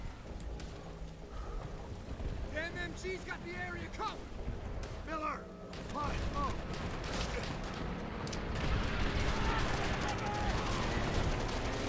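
Machine-gun fire from Japanese soldiers in Call of Duty: World at War crackles in dense, distant bursts under battle noise, while someone talks over parts of it.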